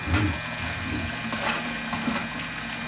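Home-brewed beer mash wort draining through a screen into a vessel: a steady, close rush and trickle of liquid that runs unbroken and fairly loud throughout.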